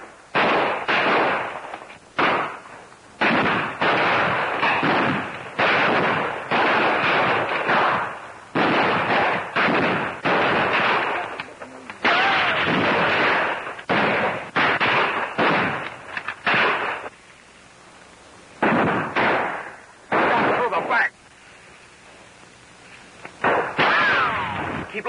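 Rapid volleys of rifle and machine-gun fire crackle loudly and repeatedly in a 1935 Marines battle scene, bursts separated by brief pauses, with no voices over the shooting.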